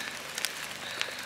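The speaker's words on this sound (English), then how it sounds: "It's raining quite a lot" Steady rain falls on the ground at an outdoor horse eventing competition, a close, dense hiss with a few sharper drip ticks and no voices.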